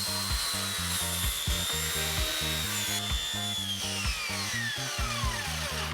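Tools cut away an old window frame during an exterior insulation retrofit. A power tool whines steadily with rhythmic, pulsing low thuds and a gliding high tone, close and continuous.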